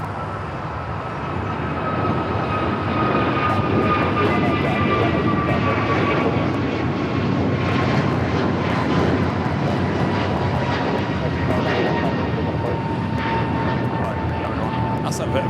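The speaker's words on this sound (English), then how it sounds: "Also, Virgin Flight 7 arriving there on the north side." A Virgin airliner arriving at LAX gives a steady, fairly loud engine roar with a thin high whine, building in the first couple of seconds and then holding, with voices talking faintly underneath.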